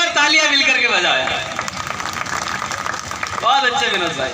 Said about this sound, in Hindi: एक बार तालियां मिल करके बजाया